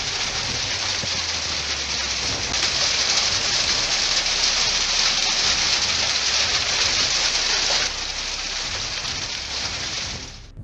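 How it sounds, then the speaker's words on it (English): Heavy hail-laden rain pounds down during a massive storm in eastern Queensland, a dense, loud, continuous roar of hammering drops that holds steady for several seconds before easing slightly, with no voices. "Eastern Queensland was pummeled by hail-heavy rain and fierce winds as a massive storm"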